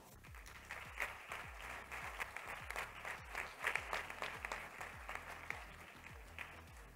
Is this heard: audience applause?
yes